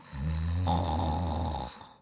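A human voice imitates snoring during a Dungeons and Dragons tabletop session, one long rumbling drawn-out snore that ends abruptly.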